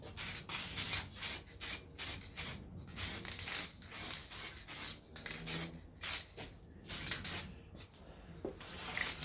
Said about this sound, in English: So give them a few light coats of satin black and they'll be all done.